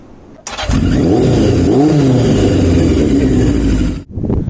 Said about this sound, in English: I've got a new loud exhaust.